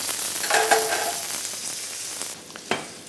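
Potato pancakes, made with pumpkin, frying in a hot pan, a continuous bright sizzle with a soft scrape or clack near the start and another sharp knock toward the end, no voices.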